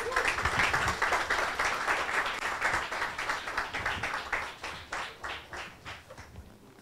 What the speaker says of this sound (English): Please clap him.